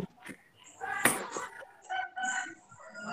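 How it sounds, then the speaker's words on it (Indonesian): A chicken crows and clucks in the background of a school's online morning scout session, a harmonic call rising around the middle of the moment amid faint room noise. "Kok masih ada bunyi ayam ya?"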